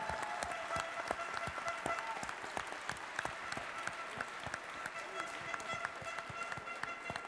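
An audience at a French student cooking competition applauds two tied fourth-place teams, a steady rattle of many hands clapping at a moderate distance, sustained without a break across the whole stretch.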